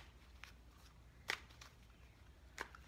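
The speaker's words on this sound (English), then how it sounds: "So a little bit more shuffling" Tarot message cards being shuffled, quiet riffling with two sharper card snaps standing out against a faint background.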